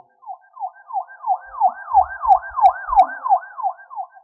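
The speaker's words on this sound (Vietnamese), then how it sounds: "Đột nhiên tiếng xe cảnh sát vang lên" A police siren yelps in fast, repeating rising-and-falling sweeps, loud and steady throughout, with a few faint low thumps underneath.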